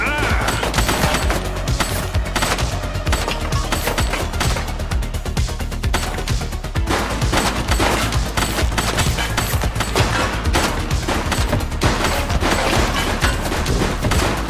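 Sustained gunfire fills a police shootout in the video game The Precinct, with loud rapid automatic bursts and dense volleys of shots that continue without a break, plus occasional crashes.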